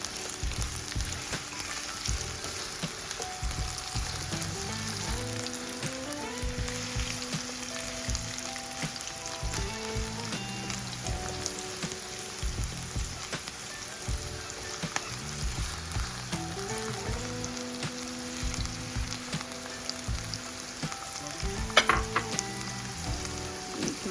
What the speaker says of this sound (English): you're gonna go ahead and add your onions. I'm gonna just saute it up for a minute or so.